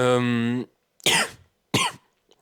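A voice trails off, then two sharp coughs follow a moment apart, close and loud.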